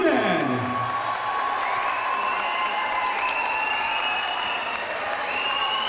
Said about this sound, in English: a big round of applause to your runner-up, Godden